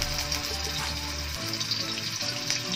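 Chopped ginger fries in hot oil for squid adobo, giving a steady, close sizzling hiss with no pauses.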